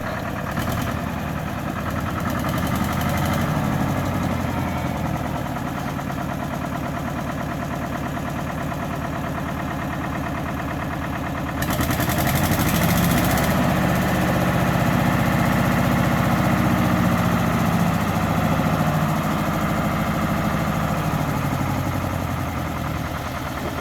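A Lister ST2 engine drives a Winget Four/40E dumper as it moves soil for backfill, a steady low mechanical chug that runs throughout and grows louder and fuller about halfway through as the load increases.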